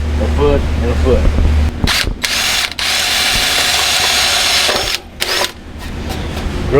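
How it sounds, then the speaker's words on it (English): A power drill whirs in short bursts while boring a pilot hole through the fairing of a new International LT truck, close and fairly loud, with brief pauses between runs and a low background hum at the start. "Drill a pilot hole."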